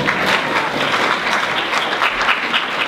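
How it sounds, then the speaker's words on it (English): Crowd applause at a stand-up comedy show in a comedy club, a loud, dense and steady wash of many hands clapping with some faint crowd noise mixed in, sustained throughout. "Clap it up, people, please."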